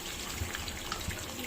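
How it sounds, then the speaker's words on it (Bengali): Water pours steadily into a cooking pot of eggplant curry, a soft continuous wash and trickle at low level with faint thuds from the pot. "এবার আমি এর মধ্যে জল দেবো, যতটা ঝোল হবে ততটা।"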